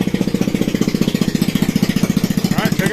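A Powerhorse Predator generator engine runs rough, loud and close, with a fast, steady chugging pulse throughout and a brief higher whine near the end.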